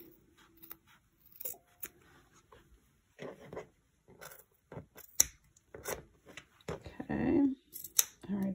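Scissors snip at the corners of a homemade fabric face mask, a series of short, close, crisp clips scattered between quiet pauses.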